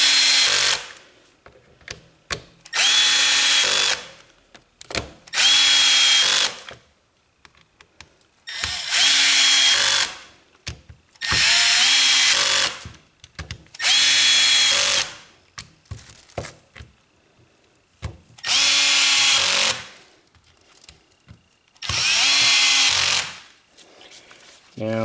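A Milwaukee 2662 impact wrench that starts intermittently drives screws in nine loud, evenly spaced bursts of about a second and a half each, separated by short pauses with faint handling noise.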